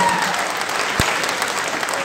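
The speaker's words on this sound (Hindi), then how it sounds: "और जोरदार तालियां बजाओ दिल्ली वालों के लिए" An audience at a live Hindi-language talk applauding: steady, dense clapping from many hands that fills the whole two seconds, loud and even, with no break.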